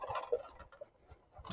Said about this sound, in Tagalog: mga pabo, sobrang laki